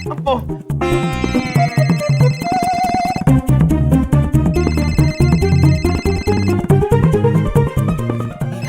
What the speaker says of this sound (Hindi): फोन यहीं कहीं बज रहा है।